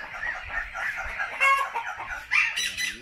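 Small roosters crow and cluck nearby in an ecological park, several overlapping calls rising and falling across a few seconds.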